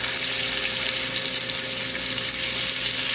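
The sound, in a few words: swordfish frying with garlic in a pan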